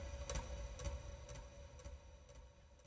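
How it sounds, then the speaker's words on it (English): A knock sample from a horror sound pack plays a sequence of six evenly spaced, dry knocking hits, faint and hollow like a tick-tock, over a low background hum. "The earliest one here is this Knox from the Abandoned Knocker doing this."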